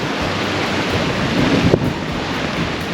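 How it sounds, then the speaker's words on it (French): Rough, storm-churned sea rushing against a sailing boat under sail off Corsica, a loud continuous wash of surf and wind buffeting the microphone, with no voices. "on est à la voile. Dans une mer démontée, puisqu'on a les résidus de la houle, de la tempête"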